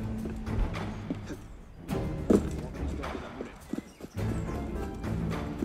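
Horses galloping in the Assassin's Creed Unity video game, steady hoof clatter with thuds under a busy, continuous in-game soundscape, moderately loud throughout.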